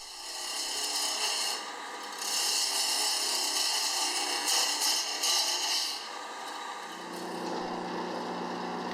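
A wooden egg being rough-shaped on an ornamental lathe gives a steady, loud rasping scrape of the cutter against the spinning wood, rising and falling in intensity across the cut with no voices.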